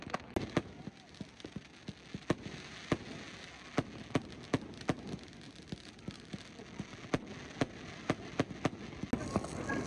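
Fireworks burst one after another during a Chinese New Year celebration, sharp cracks and pops at irregular intervals over a steady crackling, hissing wash, some near and loud, others more distant.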